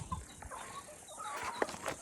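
Chickens in a backyard coop on a hot day cluck softly and intermittently, a few short, faint calls close by against a quiet background.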